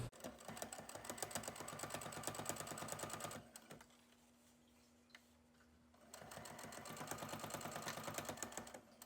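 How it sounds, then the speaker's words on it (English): Sewing machine stitching a washable fabric face mask, close and steady with a fast even needle rhythm, stopping for a couple of seconds of near quiet before running again at the same pace. "I'm now going to sew from the mark to the edge"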